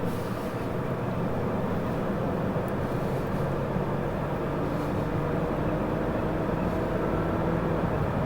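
A 2006 BMW E90 325i six-cylinder engine pulls steadily as it shifts up through its six-speed gearbox, a dense continuous road and engine roar heard from inside the car with no talking.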